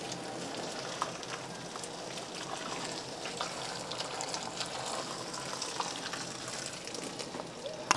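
Boiled water poured into a large pot of aash reshteh herb soup, a steady close splashing trickle lasting throughout without voices.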